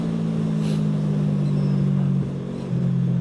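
A QJmotor SRV 600 motorcycle engine hums loud and steady as the bike accelerates, with a short drop in pitch and level at a gear change and then a pull again, with no talking.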